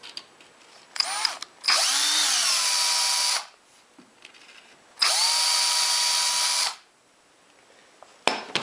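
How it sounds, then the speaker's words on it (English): A power drill with a 1/16 inch bit bores pilot holes for cup hinge screws in a workshop cabinet, giving three loud, close whirring bursts of a second or two each, separated by quiet pauses. "use a 1/16 inch bit in the little pilot holes"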